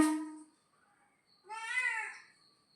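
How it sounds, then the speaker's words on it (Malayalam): A pet cat gives two clear meows close by, a short call and then a longer rising-and-falling one after a brief pause, with nothing else around them. "പൂച്ചയുടെ വിളിയൊക്കെ നിങ്ങൾ കേട്ടല്ലോ"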